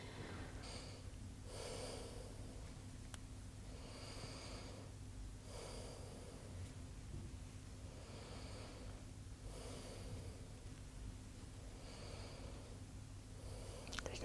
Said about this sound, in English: take deep breath in and out through your mouth, please